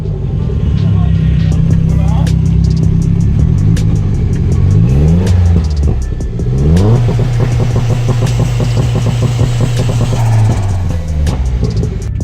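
BMW E30 with a turbocharged M42 engine revving on a dyno with a two-step launch control, loud and close, holding steady high revs with sweeping rises and falls and crackling pops throughout.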